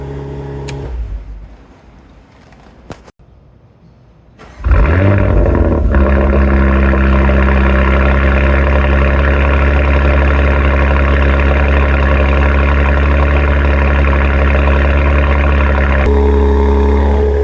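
A lowered 2022 Porsche Macan with an altered exhaust fires up after a few quiet clicks and a brief crank, then settles into a loud, steady, throaty idle with a deep rumble that holds for over ten seconds.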